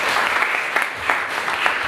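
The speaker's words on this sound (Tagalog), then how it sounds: "Sige, another palakpak po sa Panginoon." A church congregation claps steadily for the Lord, a dense, continuous wash of many hands filling the room without a pause and with no voices over it.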